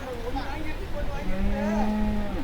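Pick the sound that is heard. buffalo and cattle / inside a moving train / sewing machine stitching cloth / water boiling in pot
buffalo and cattle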